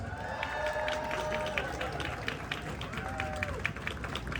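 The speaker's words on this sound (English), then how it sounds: "Give a round of applause." An audience applauds a pipe band led by its drum major, a steady wash of clapping with scattered whoops running through the whole stretch, fairly distant and even in loudness.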